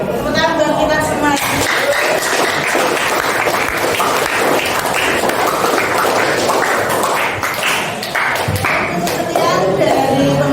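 A classroom of students claps together in steady, dense applause that runs throughout, loud and close, with some chatter and laughter mixed in.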